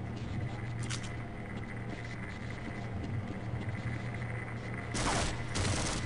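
Soldiers open fire in the Half-Life video game, a sustained rattle of gunfire with louder bursts near the end, no talking.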